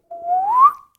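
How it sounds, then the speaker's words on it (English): A single rising whistle from a person, starting low and sliding upward over about half a second before cutting off, heard close and alone with no talk. "There's people whistling."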